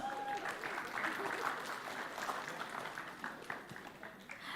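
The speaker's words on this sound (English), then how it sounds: "Please give them a big round of applause." Audience applause for award winners at a scientific conference closing ceremony, a soft, sustained wash of many hands clapping in a large room that slowly fades, with faint background murmur.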